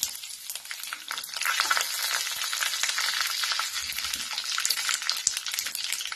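Cumin, curry leaves and sesame seeds crackle in hot oil for a Maharashtrian alu vadi tempering, a dense, close, continuous sizzle with no talking.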